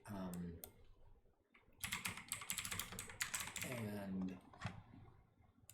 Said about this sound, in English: There's nothing to hear because I'll be silent and typing.